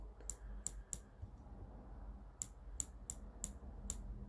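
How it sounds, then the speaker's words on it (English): A Leupold VX-Freedom rifle scope dial turned by hand gives crisp, close, distinct clicks, three in a quick run, a pause, then five more, sharp and isolated against a quiet background. "With the Leupold, you can just move it. Nice audible click."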